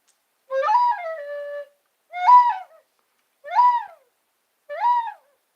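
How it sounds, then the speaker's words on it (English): An owl gives four clear hoots with even gaps between them. The first call is drawn out and the rest are shorter, loud and close in an otherwise silent night. "Sounds like an owl."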